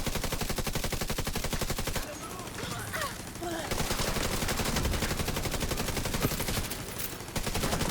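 Rapid video game gunfire rattles in dense automatic bursts nearly throughout, loud and close, easing briefly in the middle before resuming at full intensity.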